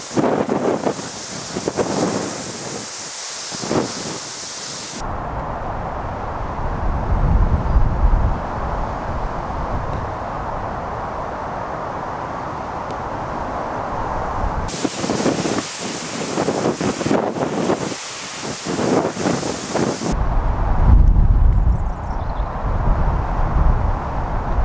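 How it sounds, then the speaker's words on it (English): Strong wind buffets the microphone on a golf course during a par-four hole, a loud, rumbling roar that swells and eases in long gusts and fills the whole stretch without any speech. "Blimey, out of that wind."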